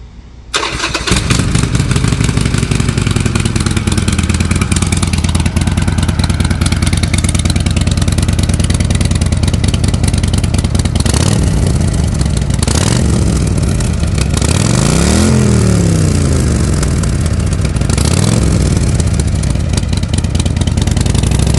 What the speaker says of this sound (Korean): 자, 지금 시동을 틀어봤는데 매연도 나오지 않습니다.